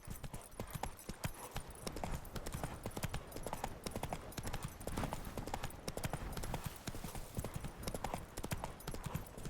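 Roach, the horse in The Witcher 3: Wild Hunt (next-gen update), gallops with steady, rapid hoof clip-clops that run the whole way at a fairly even volume, with game ambience underneath.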